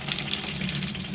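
Water runs from the tap of an Enagic water machine in a steady, close splashing stream that lasts throughout, with no voices.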